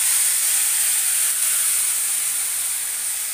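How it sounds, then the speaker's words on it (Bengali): Pieces of meat dropped into a pan of frying cumin, giving a loud, dense, steady sizzling hiss that holds evenly from start to finish, close up and without talk. "এবার আমি মাংসগুলো দিয়ে দিচ্ছি।"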